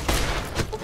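Gunshots in Fallout: New Vegas: two sharp, booming bursts about half a second apart, close and loud, with no talk over them.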